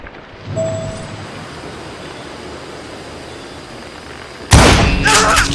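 Gunfire in the Western shooter Call of Juarez Gunslinger: after a quiet stretch of ambient hiss and a faint tone, a loud sharp gunshot bursts in near the end, followed by a ringing, rumbling tail.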